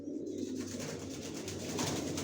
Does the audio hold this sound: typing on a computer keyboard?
no